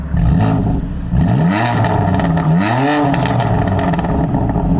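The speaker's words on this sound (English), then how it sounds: "Exhaust rev, let's go." A BMW F82 M4 CS engine revs hard several times, the exhaust note sweeping up and dropping back in loud, throaty bursts close by.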